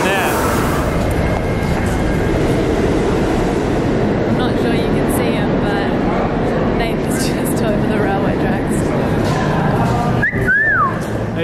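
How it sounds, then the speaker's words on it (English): A loud, continuous rumble of a train rolls through, with a brief high whistle-like squeal near the end and people talking faintly. "That should be Fee's train there."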